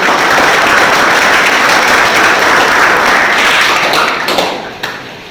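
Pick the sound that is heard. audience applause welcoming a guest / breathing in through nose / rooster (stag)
audience applause welcoming a guest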